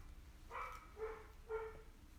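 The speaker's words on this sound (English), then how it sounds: "It sounds like my dog's decided that it's dinner time" A pet dog barks three times in a quiet indoor room, the short barks faint and somewhat distant, evenly spaced about half a second apart, with no talking.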